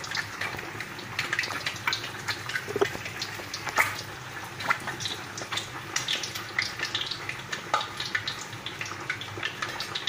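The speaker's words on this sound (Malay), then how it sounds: "Okey, saya goreng sampai habis ya." Tempeh or fried egg frying in hot oil in a home kitchen while nasi lemak and fried chicken are cooked for thirty people, a steady loud crackling sizzle with scattered sharp pops throughout and no talking.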